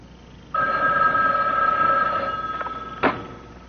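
A telephone bell rings once in a long, loud, buzzing trill that cuts off, followed by a short click as the handset is picked up.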